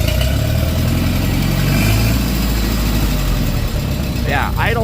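An Allis Chalmers D15 tractor engine idles close by, a loud steady low chugging rumble throughout, with a voice talking over it near the end.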